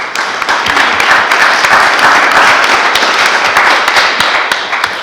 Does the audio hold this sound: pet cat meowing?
no